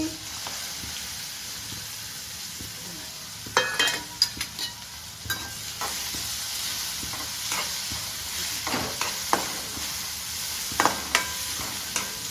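Cumin, asafoetida, garlic and onion hit hot oil in a pan for a Kathiyawadi home meal, sizzling in a steady close hiss with scattered sharp crackles and stirring clinks.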